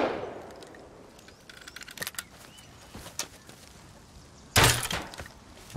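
Sporadic gunshots in the survival game Rust, several sharp isolated cracks spaced over a few seconds, with one louder burst near the end against a quiet background.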